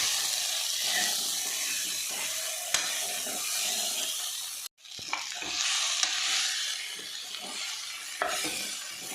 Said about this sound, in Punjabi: ਪਿਆਜ਼ ਸਾਡੇ ਦੇਖੋ ਫਰਾਈ ਹੋ ਗਿਆ